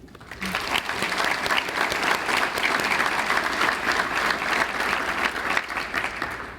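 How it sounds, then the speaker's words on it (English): An audience at an annual business meeting applauds in a sustained round of clapping, dense and even throughout, close and fairly loud, with no one speaking over it. "please join me in a final round of applause to recognize and celebrate these companies"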